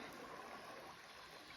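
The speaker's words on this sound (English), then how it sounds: "River." A river near Samos, Spain, flows in a continuous, faint rushing wash with no other sounds on top.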